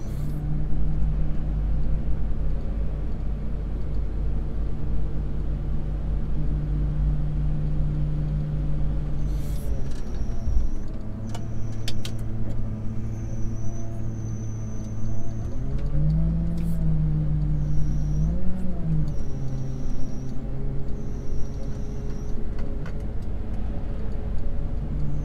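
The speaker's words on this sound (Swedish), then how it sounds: "när man är och kör med 14 tons maskin" A Volvo L60H 14-ton wheel loader drives at close range, its diesel engine holding a steady low rumble with pitch shifts as it works, and faint high-pitched ticking and whine layered above.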